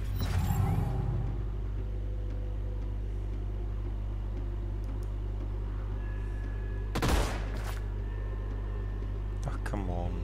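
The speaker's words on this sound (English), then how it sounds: "You shot three times and missed every time." Gunfire in the sci-fi strategy game Age of Wonders: Planetfall, with a short burst of shots at the start and another near the middle, over a low steady game hum.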